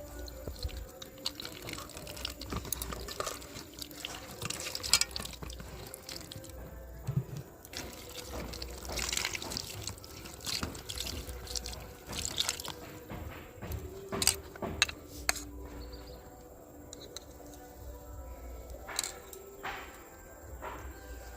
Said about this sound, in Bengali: এবার আমি পটলটা ভালো করে ধুয়ে নিচ্ছি